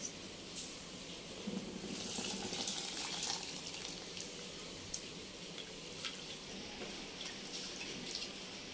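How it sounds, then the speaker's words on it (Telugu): Tamarind soaking water is poured into a pot of Andhra sambar, a faint, steady splashing trickle that runs on for several seconds with small drips and gurgles. "మనం ఏదైతే చింతపండు నానబెట్టుకున్నామో ఆ వాటర్ కూడా దీనిలోకి యాడ్ చేసేది"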